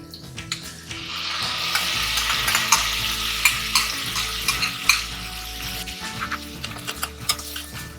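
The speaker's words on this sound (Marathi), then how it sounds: "आता आपण त्याच्यामध्ये कांदा टाकणार आहोत. कांदा परतून घ्यायचा." Onion sautés in hot fat in a pan for butter chicken, a loud close sizzle with repeated spoon scrapes and clanks against the metal as it is stirred.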